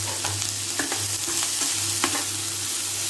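Rava (semolina) is lightly fried in a pan, with a continuous close hiss and sizzle and a few soft spatula scrapes and taps as it is stirred, with no talk over it.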